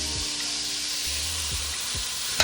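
Vegetables frying in oil give off a continuous, even sizzling hiss, close by and steady, with a faint knock at the end.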